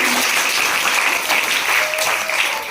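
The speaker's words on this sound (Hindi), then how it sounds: "जोरदार ताली बजाइए।" Audience at a school science quiz competition show applauds steadily, a dense, loud wash of clapping running through without a break.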